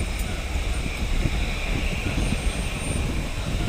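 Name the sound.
airplane engine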